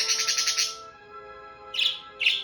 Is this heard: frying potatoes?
no